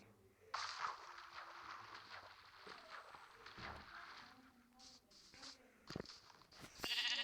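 Minecraft sheep bleat several times over a busy game soundscape, with short bright effects and thumps scattered throughout.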